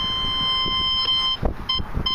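A C.Scope CS4MX metal detector sounds its pinpoint tone, a steady electronic beep with several brief breaks and pulses near the end, with no talk.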